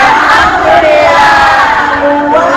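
Large audience at a religious talk in Hong Kong applauding and cheering loudly, a dense, steady roar of clapping and shouts sustained throughout without any speech.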